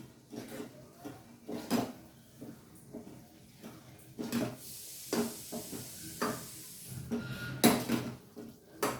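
A spoon scrapes and knocks in a pan as crushed chavanu is stirred into a bitter gourd curry, giving a series of irregular clinks and scrapes at close range, with no talking.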